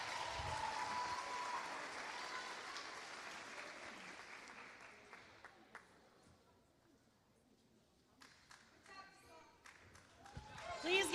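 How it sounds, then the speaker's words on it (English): Applause at a high school graduation ceremony for a student speaker, a loud, dense crowd clapping that gradually thins and fades, followed by scattered claps and voices toward the end. "Please give Tiba a big round of applause."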